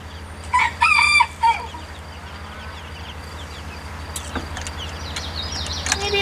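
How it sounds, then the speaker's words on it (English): A rooster crows loudly and close by on a farm near a new coop, with several short crowing bursts early, then quieter clucking from the chickens over a steady low background hum. "Come on, chicks."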